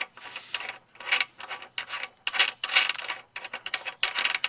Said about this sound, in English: So this nut comes off.